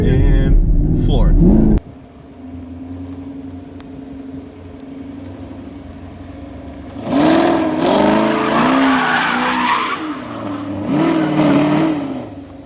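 A car does donuts, its engine revving hard in repeated rising and falling surges while the tires skid. The sound is loud and close, and people talk over parts of it.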